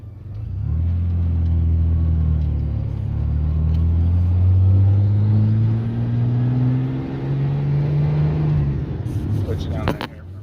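Engine rumble from inside a truck moving in traffic, loud and close, rising and falling as it slows and pulls away, with a few clunks near the end.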